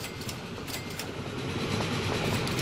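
A train passes through the simulated landscape of the video game Train Fever, a steady rumbling roll with faint rhythmic clatter that grows slightly louder toward the end, with no voices.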